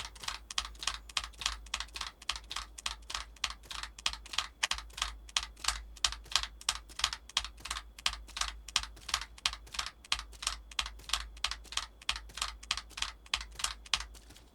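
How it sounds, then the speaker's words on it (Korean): Fast, steady keystrokes on a computer keyboard fill the whole stretch, a crisp, evenly paced rhythmic pattern of clicks, close and clear with no voices. "지금 키보드 소리를 이 리듬을 잘 기억하고 머릿속에 외운 다음에 한다 생각하면 돼요."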